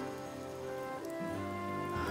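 Rain falling in the farming role-playing video game Harvestella, a steady soft patter on surfaces beneath gentle game music, with no talk over it.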